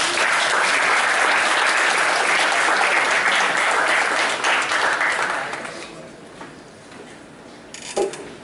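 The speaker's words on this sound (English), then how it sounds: "I would like you all to welcome Sir on stage with a warm round of applause." An audience at a corporate industry event claps in a warm welcome as the speaker comes on stage, loud sustained applause that fades out over the last few seconds.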